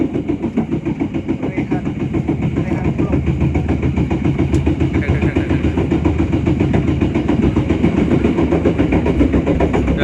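A train pulls away from Sukoharjo station, its engine loud and near with a steady rhythmic rumble and clatter building over ten seconds.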